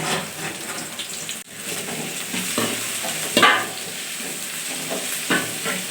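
Onion, garlic and curry leaves sauté in hot oil in a pan for a chicken gravy, giving a steady close sizzle broken by scraping stirs from a utensil.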